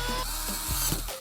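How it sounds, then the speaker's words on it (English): A servo being screwed into wood gives off rough, grinding bursts of a driver turning, broken into a few short pushes with faint ratcheting between them over a steady low hum. "Let's screw in the servo"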